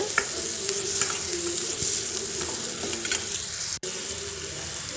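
Steady, loud sizzling and crackling of onions frying in a pan while cooking a moong dal curry, continuous and close, with no talking.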